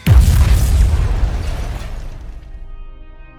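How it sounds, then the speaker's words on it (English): A bomb detonates in one loud, close blast that booms and rolls, then slowly decays into a rumbling tail over a few seconds, with no voices. "the bomb is detonated"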